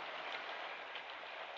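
Steady rain falls outdoors as a soft, even hiss, faint and continuous throughout, with no voices over it, in a 1961 Korean film street scene.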